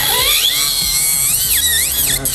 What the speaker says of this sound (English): I'm gonna go on with this turbo bit to dig into the enhancement. This is gonna remove product very quickly.